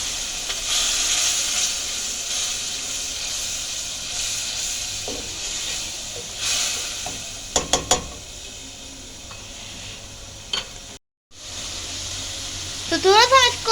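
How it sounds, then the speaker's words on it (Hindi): Spices sizzle and fry steadily in a pan with a little water added while cooking egg fried rice, a constant close hiss with a few brief clinks of a utensil against the pan. "तो 2 टेबल स्पून इसके अंदर वाटर ऐड कर देंगे ताकि मसाले की भुनाई अच्छे से हो जाए।"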